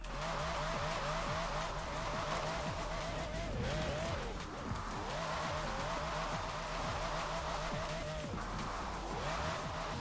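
Car drifting in the racing game Forza Horizon 4 on drift tyres: a steady, loud engine drone with wavering pitch and continuous tyre squeal sweeping up and down throughout, with no talk over it.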